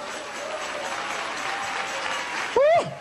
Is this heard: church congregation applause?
yes